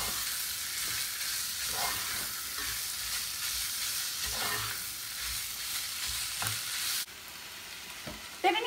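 Chickpeas stirred and frying in a pan make a steady broadband sizzle with scraping stir strokes, then the frying quiets abruptly near the end before a few brief clinks.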